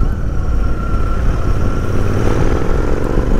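A Royal Enfield Interceptor motorcycle engine runs steadily at a low, even idle, close by and loud, with no voices over the continuous mechanical rumble.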